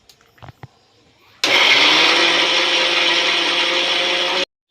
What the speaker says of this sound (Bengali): একটু জল দেব, এবার মিক্সি করব।